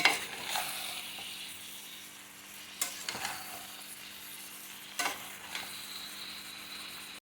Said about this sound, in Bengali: এবার আমি এই সবজিটা খুব ভালো করে মশলার সাথে মিক্সড করে নেব